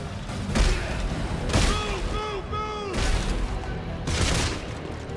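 Several heavy gunshot volleys and booms in Dead Space 3, spaced about a second apart, with a short mechanical whine between them and a player's voice mixed in.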